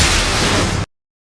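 A bomb blast in a film about the Nazi persecution of Jews sounds as a loud, dense roaring burst of noise that holds for under a second and then cuts off abruptly to silence.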